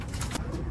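Young racing pigeons kept in a long loft, with a short, close cooing call from a bird that blends into low, continuous background rumble.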